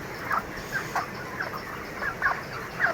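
Broiler chickens about 29 days old on a poultry farm, clucking in short repeated bursts over a steady background hum of the shed, several birds calling close by.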